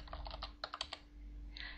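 Computer keyboard keys typed in short bursts of close, light clicks while entering text commands for the Aardwolf MUD game, a pause, then a few more keystrokes, with no talking.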